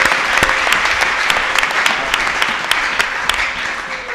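A church congregation claps loudly and continuously for the Lord, dense rhythmic applause filling the room with no pauses.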